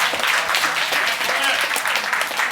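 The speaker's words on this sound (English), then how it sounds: "Big round of applause for all of our speaking companies and all of our companies here today." An audience at a crowded tech jobs meetup claps, a dense burst of applause from many hands that fills the room steadily from start to finish.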